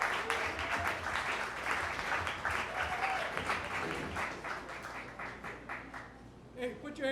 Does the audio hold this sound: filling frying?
no